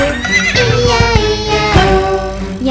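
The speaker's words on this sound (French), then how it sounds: "Y a des centaines de chevaux" A horse neighs and whinnies loudly in a French children's farm song, the whinny rising over bright sung music and a bouncy backing beat.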